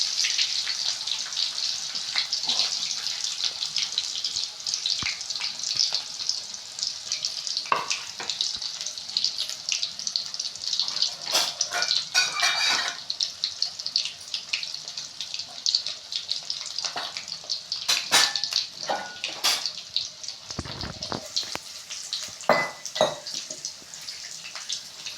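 Chopped onions sautéing in hot oil in a pan while tomato rice is being cooked, heard as a steady high hissy sizzle with occasional scraping and stirring clatters. No one speaks.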